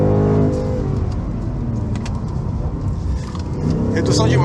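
A Ford Mustang Mach 1 with an automatic gearbox accelerates hard around the Velo Città track, its engine roaring loudly through rapid upshifts, with a voice talking over the close, rumbling exhaust.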